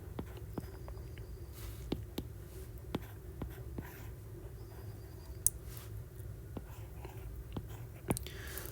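A pen sketches a dental implant diagram by hand, with soft scratchy strokes and scattered sharp taps at irregular intervals over a quiet, steady background, without any talk.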